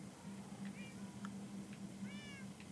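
Minecraft cats meow in a short series of soft, separate calls over a steady low background hum, one call slightly longer near the end.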